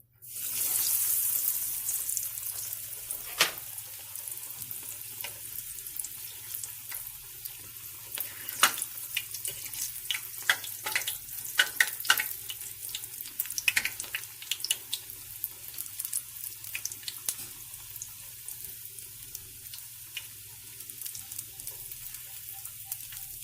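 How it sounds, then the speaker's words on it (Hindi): Battered onion rings with mozzarella cheese frying in hot oil, a steady hiss of bubbling oil with scattered crackles and pops running throughout, close and fairly loud, with no talking. "तो ऑयल जो है वो हॉट हो गया है। तो अभी हम इसमें जो है ये इसको फ्राई कर लेंगे।"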